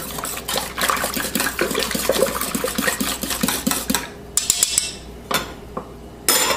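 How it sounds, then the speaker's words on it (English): Eggs being stirred into a bowl with yeast mixture, a fast run of close utensil clinks and wet sloshing against the bowl, then a few separate taps and scrapes after a pause. "You'll add your eggs. Give it a quick stir."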